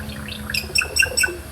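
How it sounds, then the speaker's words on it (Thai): A short run of bright, whistled hill myna calls, several clear chirps in quick succession, close and loud against faint background hum. "เสียงนกขุนทองค่ะ"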